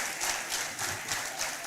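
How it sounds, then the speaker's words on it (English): A steady burst of audience applause at an evening cocktails-and-conversation talk event, dense clapping with a gently pulsing rhythm throughout. "A round of applause"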